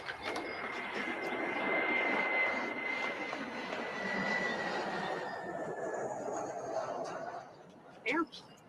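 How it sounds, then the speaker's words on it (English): An airplane passes overhead with a steady, loud engine roar that slowly fades, and a brief voice is heard near the end. "Airplane."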